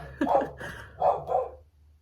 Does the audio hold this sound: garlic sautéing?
no